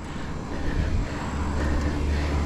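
A car rumbles past on a mountain road in the Sierra Madre, a steady broadband engine and tyre roar that swells slightly and holds fairly close.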